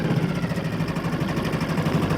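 Outboard engine on a rental boat at Mjörn with the choke pulled out, running steadily and loudly up close with a rough, slightly faster idle and no talk over it.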